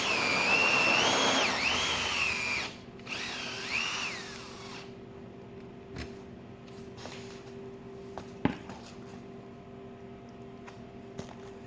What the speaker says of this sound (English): These drills aren't really doing what they should